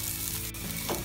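Chicken mince sizzles steadily as it fries in a pan, close and continuous for about a second with a faint stirring scrape near the end, no voices.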